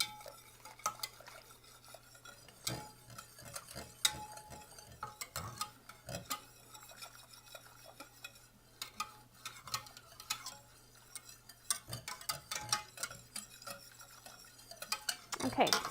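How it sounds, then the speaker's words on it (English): A whisk clinks and scrapes rapidly inside a metal pot as pumpkin spice latte syrup ingredients are mixed, making irregular bursts of close metallic tapping with short pauses between them and no talking. "Then we're just going to whisk this together."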